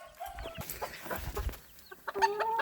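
Pekin bantam chickens cluck softly and irregularly inside their coop, with a few short tonal calls and light scuffling close by, and no talking.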